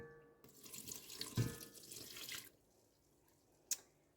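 Water, 250 grams of it, is poured into a sourdough wheat bread mix for about two seconds as a splashing, hissing flow, followed by quiet and a single faint clink.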